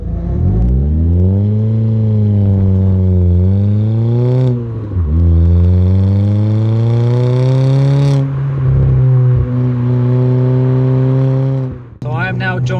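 A Fiat Panda 100HP car engine accelerates loudly and close by, its tone rising in several long revving pulls through the gears with brief dips between them.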